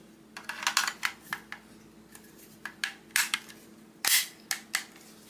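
A Polytech 5-round magazine is worked into a Pioneer Arms forged 20-inch 7.62 rifle. Sharp metallic clicks and clacks come close and fairly quiet in irregular bursts, with one louder clack near the end and no speech.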